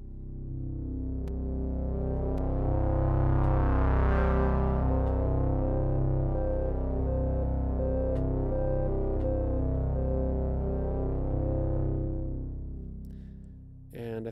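An evolving synth bass patch from the Helm software synthesizer plays one long, loud sustained tone that shifts in timbre throughout, then fades out into a long reverb tail over the last couple of seconds.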